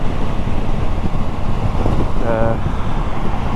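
Steady, loud wind buffets a motorcycle rider at motorway speed behind a windscreen raised to its highest and most forward position, a continuous dense roar with no breaks and no one speaking.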